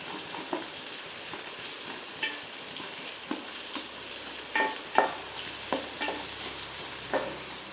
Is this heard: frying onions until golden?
yes